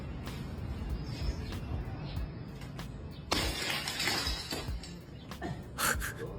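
Something smashing to pieces on a construction site, played back as a clip: a sudden loud crashing burst with scattering debris over a noisy outdoor bed, then a second sharper crunch near the end.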